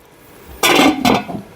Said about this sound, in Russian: Накрываю крышкой.